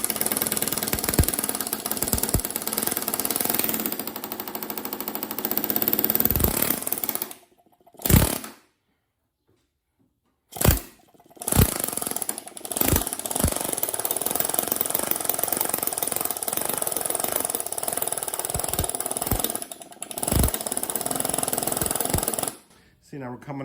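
A drill bores out spot welds on a Dodge Ram rocker panel in loud, sustained grinding bursts that stop briefly and start again, with someone talking now and then between and over the drilling.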